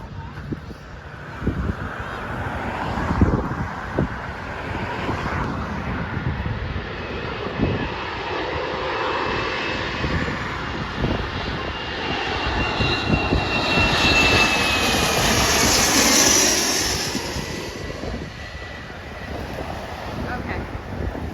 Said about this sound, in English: This is a JSX Embraer E135LR coming from Scottsdale.